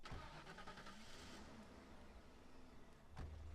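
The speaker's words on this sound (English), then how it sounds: "we want to start up our bolt thrower. So just enter the car" A car engine starts up in the Mafia video game, a brief cranking burst followed by a low idle hum, with a second thump near the end, all fairly faint.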